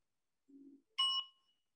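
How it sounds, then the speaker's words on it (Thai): A meditation bell rung for mindfulness gives a single clear, bright metallic strike that rings out briefly and fades, after a faint low tone just before, in a quiet setting. "ก็เสียงระฆังนะคะจะทำให้เรามีสติระลึกรู้นะคะ"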